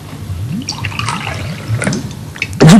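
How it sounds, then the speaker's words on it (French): Indicator solution poured into a glass of water with dissolved baking soda, a close, steady liquid pour with small splashy gurgles, ending in a brief louder burst. "si on y verse notre solution indicatrice"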